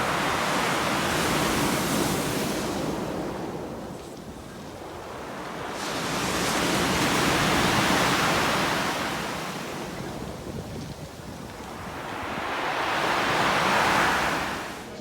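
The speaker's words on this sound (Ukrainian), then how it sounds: "Такий гул цих хвиль." Ocean waves roll in and crash on the shore in three long, rising and falling surges, a loud continuous roar with no voices.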